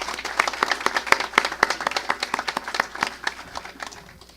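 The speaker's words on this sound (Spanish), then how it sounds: "Un aplauso para todos, nosotros, para todos." Applause from an audience at a formal national commission ceremony for intellectuals and artists, a steady patter of many hands clapping close by that thins and fades toward the end, with no talk over it.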